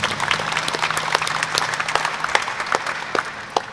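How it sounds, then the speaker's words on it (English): An audience applauds family court judges at a local candidates forum, with brisk, moderately close clapping from a modest crowd continuing steadily throughout. "let's give the family court judges a round of applause"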